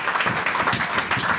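A church congregation at a French-language sermon bursts into brief, dense applause, many hands clapping together close and loud for a moment.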